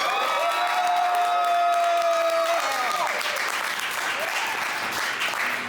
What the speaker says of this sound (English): One more time, nice round of applause for Joyner.